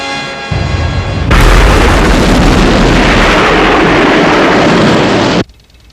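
A huge detonation in a Thunderbirds episode erupts after a brief tonal hum, then rolls on as a loud, sustained roaring blast for about four seconds before cutting off abruptly.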